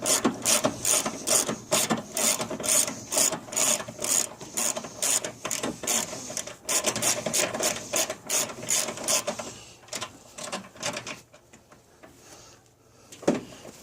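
A ratchet with a 1/2 inch socket clicks rapidly in repeated bursts while working the battery hold-down bolt on a 1998 Chevrolet Suburban C1500, close and crisp, thinning out toward the end.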